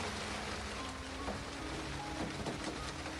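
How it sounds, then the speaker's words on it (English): Rain against a glass window as a visual novel game sound effect, a steady, dense wash of fine patter with no pauses, soft and even throughout. "Sound of water dripping against the glass window."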